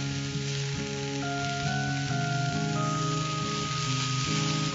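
Banana flower sautéing in a pan sizzles steadily, a continuous frying hiss heard close and alone while tonal music plays underneath.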